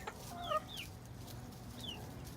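Chickens and young cockerels cluck and squawk nearby in a few brief rising calls over a quiet background, with a couple of soft knocks.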